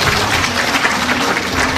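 Steady audience applause at a Korean book launch event, a dense, even wash of many hands clapping together for a short stretch with no talking.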